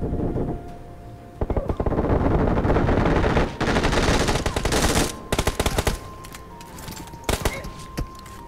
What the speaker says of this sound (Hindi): MG3 की गोलियाँ कितनी फास्ट निकलती हैं, बहुत भारी वाला फायर रेट है